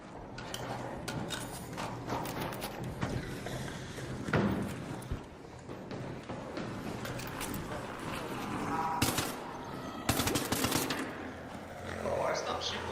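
Video game gunfire cracks in scattered shots and short bursts under near-constant talking, with occasional louder volleys among thuds and movement noise.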